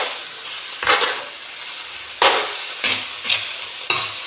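Chicken adobo is stir-fried in a pan over a steady low sizzle, with five or six distinct scraping stirs of a spatula spaced irregularly.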